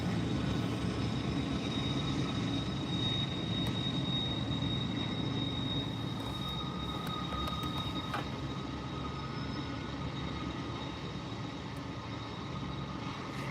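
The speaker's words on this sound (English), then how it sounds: "That damn train is loud as fuck." A train passes at some distance, making a steady, low, continuous rumble that holds at an even level throughout with no talking.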